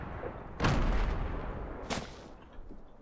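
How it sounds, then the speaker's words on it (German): A robot in Fortnite launches rockets in two heavy bursts, each a loud, broad blast that trails off into a rumbling decay, close and dominant with no talking. "Der Roboter kann Raketen schießen, 10 Stück auf einmal"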